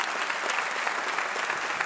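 A comedy show audience claps in a dense, continuous wash of applause, steady and full throughout with no voice over it.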